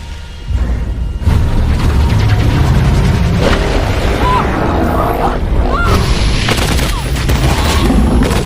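Rifle fire and explosive booms fill a movie battle between humans and aliens, a loud, dense barrage of rapid shots and blasts that keeps going almost without pause, with no clear speech over it.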